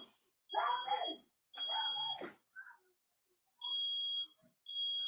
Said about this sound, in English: Damn, the fire alarm went off.